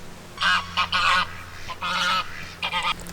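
A pet goose named Donald honks loudly at crows in a garden, several close, nasal calls delivered in quick bursts of two or three with brief gaps over a low background hum.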